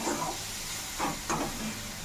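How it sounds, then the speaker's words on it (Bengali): Cabbage with salt and turmeric fries in a pan. The quiet sizzle hisses steadily, and two or three soft stirring bursts rise above it. "বাঁধাকপির মধ্যে নুন হলুদ সব কিছু দিয়ে দিয়েছি, আর আজকে এবার কম বেশি করে এটাকে ভেজে নিচ্ছি"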